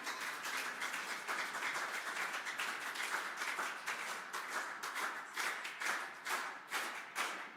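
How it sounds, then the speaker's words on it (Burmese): A church congregation at a Tuesday worship service applauds steadily for several seconds, a dense, even wash of many hands clapping to welcome a preacher. "ဆရာမကိုလက်ခုပ်တီးပြီးတော့ကြိုဆိုရအောင်"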